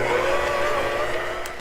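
Electric mixer whirring steadily through blueberry lemon scone dough, a constant close motor hum with no talk.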